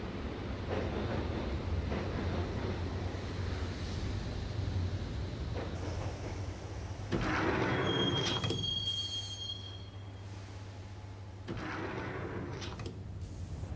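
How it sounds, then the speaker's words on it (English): A train in the Max Payne video game rolls along its rails toward Roscoe Street Station with a steady loud rumble and clatter, and a high metallic wheel squeal rises partway through. "the train doors had already shut behind me, and I was in for the ride"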